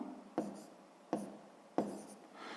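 A pen on a paper page puts down three short, crisp marks at even intervals, each a quick scratch that fades fast, close and quiet with no voice over them.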